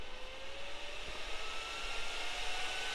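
A brushless motor spins under a bench test, giving a steady whirring drone with a faint rising whine, continuous and fairly close throughout.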